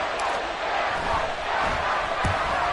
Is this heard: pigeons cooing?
no